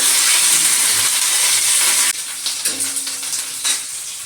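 Sliced onions and green chillies frying in a hot pan, with a loud steady sizzle that turns more crackly and uneven partway through, joined by scattered stirring scrapes, close by and with no talk.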